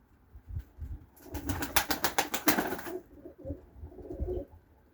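Pigeons coo softly nearby in repeated throaty calls, with a burst of flapping wings in the middle.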